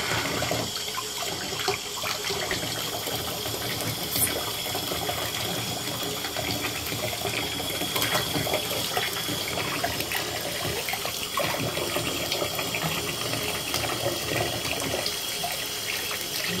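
A kitchen tap runs continuously, a steady close splashing stream of water falling into a sink with small trickling variations throughout.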